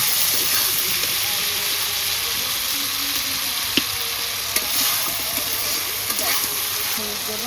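Fish curry with rohu fish sizzling steadily and loudly in a pan while it is stirred after salt goes in, with a few faint scrape clicks over the continuous hiss.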